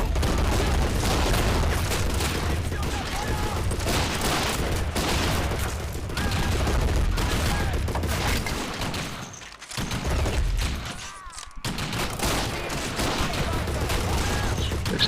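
Dense battlefield gunfire from the Men of War video game, in a Soviet assault on a German-held bridge: continuous volleys and machine-gun bursts with heavy booms, briefly thinning around the middle before the firing resumes at full loudness.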